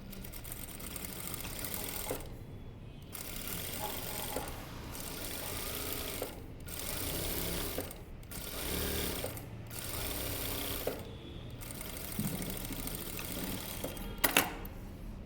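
A sewing machine stitches a blouse in short, rapid, whirring runs, stopping briefly between runs. The machine is close and clear, and nobody speaks.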